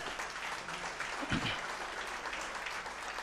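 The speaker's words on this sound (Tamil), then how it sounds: "ஐயாவுக்கு ஒரு பலத்த கைத்தட்டு கொடுத்து" An audience at a Tamil debate stage event claps, a dense patter of applause with a brief louder burst of claps in the middle, steady and moderately near.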